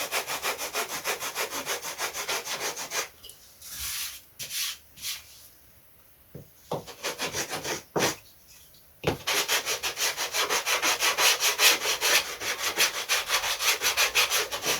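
Hand sanding of wood while building a vintage Lunak aerobatic glider, rapid back-and-forth rasping strokes up close, a quieter stretch with scattered rubs in the middle, then brisk rhythmic sanding resumes.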